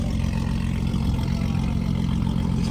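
BMW G80 M3 single-turbo engine idles at a car meet, a steady, close, low burbling rumble with a slightly choppy texture that holds unchanged throughout, with no talk over it.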